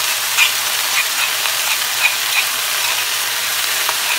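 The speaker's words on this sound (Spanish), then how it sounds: "Vamos a poner nuestros ajos ahí." Garlic fries in a hot pan for pork chops, a steady loud sizzle with a few faint clicks and scrapes of stirring, heard close and alone.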